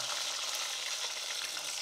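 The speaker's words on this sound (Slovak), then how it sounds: "Ryba sa nemusí nejak extrémne dlho smažiť, pretože je krehká." A fish fillet fries in a pan on an induction hob, giving a steady, dense sizzle of hot fat that carries evenly throughout with no talk.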